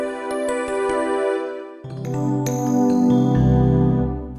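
A JVEP preset plays on a Roland Juno-DS keyboard: a bright chiming tone with a few quick plucked notes, then a fuller sustained swell with layered harmonics. The keyboard sounds alone with no voice.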